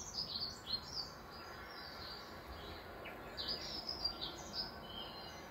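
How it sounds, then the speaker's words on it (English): Small birds chirp in quick, high, bright clusters that come and go over a steady low hiss, fairly faint and somewhat distant, with no one talking. "Where are the birds, Nala?"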